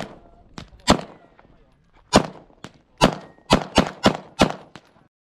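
Glock handgun shots ring out at an outdoor shooting range, about eight sharp, loud reports in an irregular sequence, some closely spaced and some separated by pauses, each with a short echoing tail.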